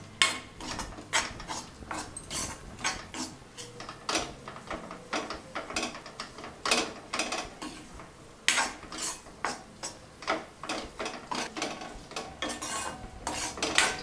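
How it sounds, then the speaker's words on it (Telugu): Gram flour being roasted in a pan for besan laddu, a spoon stirring and scraping it in a quick, steady, repeated rhythm. The scraping is close and moderately loud, with no talking. "శనగపిండి బ్రౌన్ కలర్ వచ్చేంత వరకు వేయించాలి"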